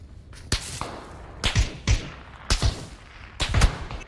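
Gunfire in the video game PUBG: a handful of sharp, booming shots arrive singly and in quick pairs over about four seconds, fairly close and loud, with no talking.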